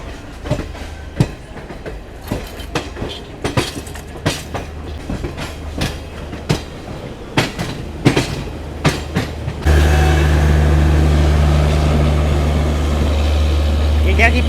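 A Garib Rath Express rolls into New Delhi railway station with a rhythmic clickety-clack of wheels over rail joints, then switches to a loud, steady rumbling hum as it passes close by, with voices in the background.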